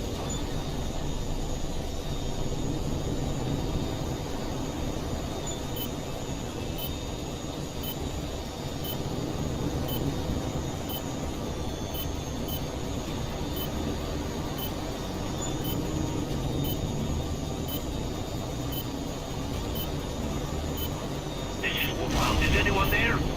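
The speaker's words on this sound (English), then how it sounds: "Enemy aircraft in close pursuit." Enemy jet aircraft in the Tom Clancy's HAWX 2 combat flight game give a loud, steady roaring drone that fills the whole stretch and swells slightly near the end.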